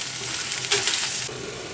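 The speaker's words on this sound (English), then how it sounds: "Really give this a good stir, keep stirring it. Get it coated with the garlic and the ginger. We're gonna cook this down." Vegetables with garlic and ginger sizzling in a hot pan while being stirred, a close, continuous frying hiss with a brief louder burst midway.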